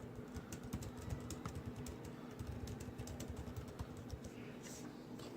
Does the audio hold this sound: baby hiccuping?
no